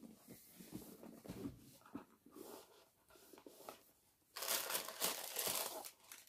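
Cardboard door number 3 of a Lookfantastic beauty advent calendar being opened, with close packaging crinkling and rustling in repeated bursts that grow louder and denser toward the end.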